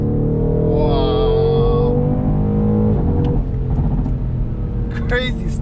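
A BMW M850i xDrive engine roars under full-throttle acceleration, loud and close, its rising tone stepping through gear changes as someone speaks excitedly over it.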